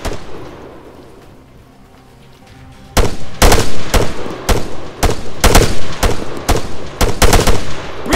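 Rifle fire in the military shooter ArmA 3: after a quiet lull, a loud, close series of sharp shots in quick irregular bursts, each crack ringing out over the open ground.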